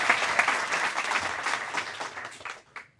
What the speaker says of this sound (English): Let's give a big round of applause to Raj also.